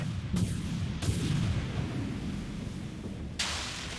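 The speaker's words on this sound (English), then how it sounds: "I launch torpedoes." Torpedoes launch in the naval space combat game Dreadnought, heavy booming blasts over a constant low rumble, with sharp bursts near the start, after one second and a louder one near the end.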